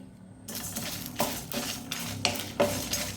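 Coriander, cumin, pepper, fenugreek and mustard seeds are dry-fried over moderate heat for a clam sukka, the seeds rustling and rattling against the pan as a spatula stirs in a few distinct sweeps.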